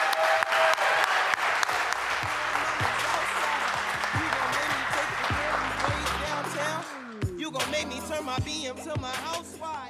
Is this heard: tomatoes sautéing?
no